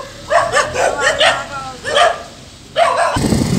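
Dogs barking at a Karachi camel market in Sohrab Goth, several bursts of barks in a loose rhythm at moderate distance, with outdoor commotion and a louder rumble near the end.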